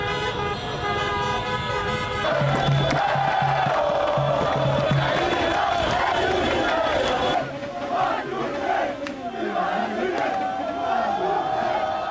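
Crowd of football supporters chanting and shouting together outdoors, celebrating Algeria's title, mixed with car horns and honks, loud and busy throughout.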